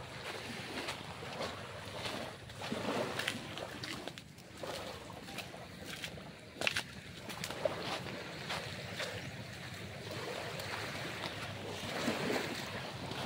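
Steady rush of sea waves washing ashore, with wind buffeting the microphone and occasional soft thumps; no voices.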